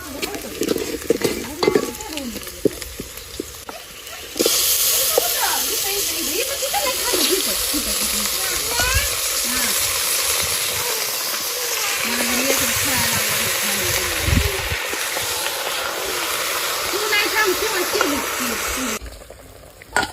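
Chicken curry bubbling and sizzling in a pot on a wood-fired clay stove, a steady loud frying hiss with stirring scrapes, lasting throughout with a quieter stretch at the start.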